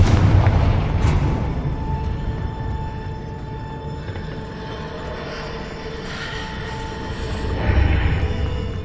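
A blasting Confringo spell in Hogwarts Legacy sets off an explosion heard as a deep, rumbling boom that swells at the start, lingers as a low roar, and rises again near the end.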